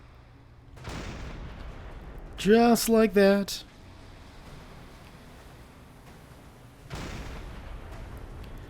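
Explosions strike a freighter in the Silent Hunter 5 naval submarine game, a burst of blasts in the middle followed by a later boom, set against a low rumbling background with someone talking over it.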